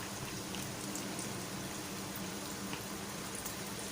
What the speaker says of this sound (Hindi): ऑयल हल्का सा गर्म हो गया है। मैं इसके अंदर ये चॉप अनियन ऐड कर रही हूँ।